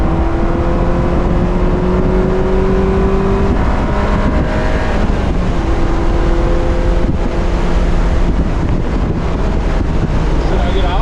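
A 2001 Honda S2000 engine on a race track, heard from inside the car as a loud, steady engine note with rising and falling pitch sweeps under heavy wind and road noise.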